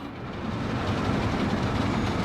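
Trains passing in the video game Workers & Resources: Soviet Republic, a steady rolling rumble with faint rhythmic clatter of wagons on track, continuous and fairly loud for a couple of seconds.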